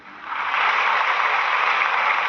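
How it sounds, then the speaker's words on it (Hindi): Audience applause for Rajesh at a motivational talk, a dense steady wash of clapping that swells in after a brief quieter start and holds loud and continuous throughout. "राजेश के लिए जोरदार ताली फिर से बजाएं।"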